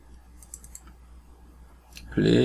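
A computer mouse clicks a few times, soft and quick, while a user works in SketchUp with V-Ray; a voice starts talking right after.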